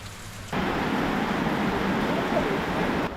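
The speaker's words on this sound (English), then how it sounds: "it has been raining non-stop like this." Heavy rain pours steadily onto a van during Cyclone Kirrilly, a dense, loud hiss of water that starts abruptly after a quieter moment and continues without a break.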